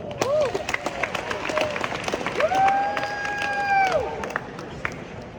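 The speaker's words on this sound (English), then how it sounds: "Let's give them a round of applause" Applause and cheering from an audience at a university club sports banquet, with a crowd cheering and calling out over steady clapping, moderately near and lively throughout.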